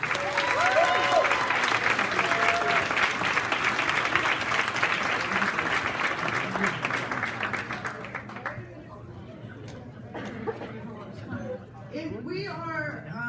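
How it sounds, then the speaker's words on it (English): An audience at a Middle States region event breaks into loud, sustained applause that fills the first eight seconds, then thins into scattered claps and crowd murmur with a few raised voices. "let's give these guys a great round of applause"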